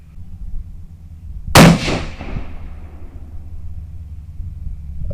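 One loud rifle shot fired at a target, a sharp crack followed by a long fading boom and echo over a quiet outdoor background.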